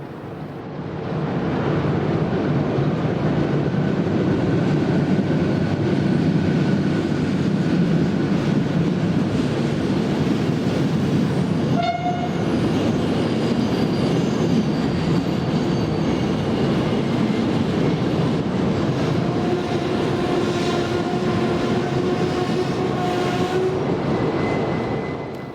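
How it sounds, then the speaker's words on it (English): An express passenger train from Bucharest pulled by a Class 41 electric locomotive rolls in steadily on the far platforms, with a continuous loud rumble of wheels and rail noise, faint squeals and a brief clank midway, lasting throughout. "Arriving on the far platforms is a Class 41 electric, with an express passenger service from Bucharest."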